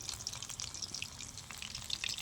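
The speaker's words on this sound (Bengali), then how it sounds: "চিকেনটা আমি এক এক করে তেলে ছেড়ে দিয়েছি। এবার ভালো করে ফ্রাই করে নেব।" Chicken pakora pieces frying in oil over a clay stove, a steady quiet sizzle with fine bubbling crackle throughout and no voices.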